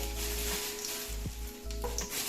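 Raisins frying in hot ghee for chicken biryani give a dense, steady sizzle, close and continuous, with a faint scrape of stirring partway through.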